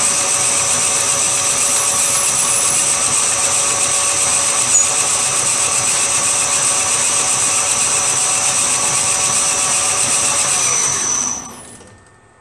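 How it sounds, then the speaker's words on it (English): A lathe parts off a machined crankcase drain plug for a BSA Bantam, giving a loud, steady whine with sustained high cutting tones that run unbroken for about eleven seconds and then spin down abruptly into quiet, no voices. "And now we're parting it off. We're actually cutting it off."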